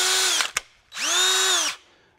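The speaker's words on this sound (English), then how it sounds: "Drilling that hole, I have that step bit marked." A power drill with a step bit bores a hole in a skid plate, sounding as a loud whining motor burst that cuts off, then a short tap and a second sustained whine that winds down.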